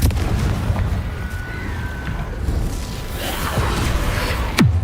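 Confringo explosive spell cast in Hogwarts Legacy, heard as a loud, dense run of booming blasts and crackling bursts that keep going for several seconds, ending in a sharp high whoosh, with no voices.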